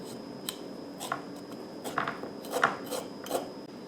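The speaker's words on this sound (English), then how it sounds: "One of the more efficient ways to peel is to just scrape with a spoon." A spoon scrapes the peel off fresh ginger root in short, irregular rasping strokes, close and fairly quiet, with brief pauses between strokes and no talking.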